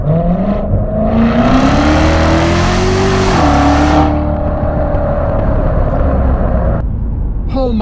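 A Chevrolet Corvette (C8 Stingray or C7 Z06) accelerating hard, its engine note climbing loudly through the revs before easing off, then settling into a steady drone.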